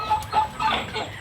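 RTL chickens clucking close by on a farm during rainy weather, a few short rising calls in quick succession with no talk.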